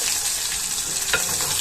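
Brinjal pieces frying in oil for a curry, a steady close sizzle and crackle with a brief stir or shift in the pan, no talking.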